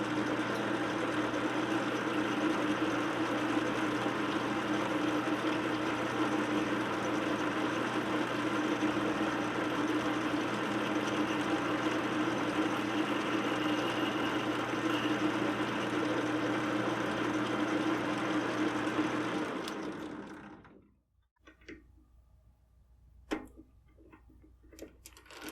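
A lathe runs steadily for about twenty seconds while its cutter trims the mouth of an 8x58R brass cartridge case, giving a constant mechanical hum with faint ticking, then spins down, leaving near silence and a few small clicks.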